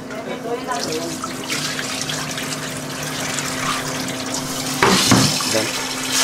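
Water runs steadily into a vessel while dal lentils are swished and rinsed, with a brief louder slosh near the end and a voice speaking over it.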